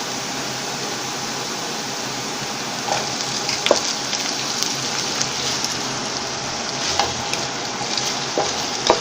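Potatoes tipped into onions frying to a light golden colour in a pan for egg-and-potato bhujia, giving a loud, steady sizzle throughout with a few sharp clinks scattered over it.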